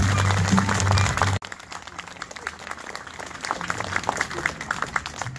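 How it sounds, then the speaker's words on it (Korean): Loud applause from a crowd at a Catholic church groundbreaking ceremony fills the first second and a half, then cuts off abruptly, leaving a quieter room with scattered voices and speech. "준비했으면 박수!"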